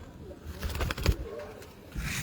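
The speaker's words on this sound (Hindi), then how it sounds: "मुझे कबूतर दिखा रहे हैं" Pigeons of a well-known breed cooing close by, a few soft throaty coos over faint background murmur and outdoor noise.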